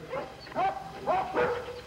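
Several dogs from the pound bark and yip close by in a 1950s television drama. The sound comes as short overlapping barks and whines in quick bursts over a faint background.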